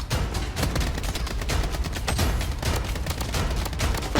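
Rapid gunfire in the video game Blood Strike, dense bursts of shots crackling continuously and loudly throughout with no pauses.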